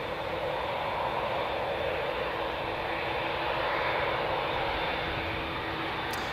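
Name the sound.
Ryanair airliner landing at Newcastle International Airport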